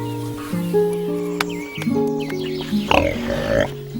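A truffle pig grunts and oinks in several close, rough bursts, with music playing underneath.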